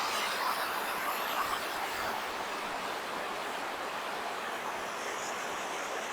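Powerful cascades on the Electric Brook during a hike at Schooley's Mountain make a constant, loud roar of rushing water, broad and steady with no breaks and no voices.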